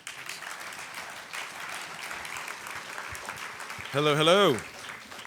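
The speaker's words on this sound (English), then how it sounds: "Thank you for that overwhelmingly enthusiastic applause" An audience applauds to welcome a speaker, a moderate, steady clapping that runs throughout, with someone briefly speaking over it near the end.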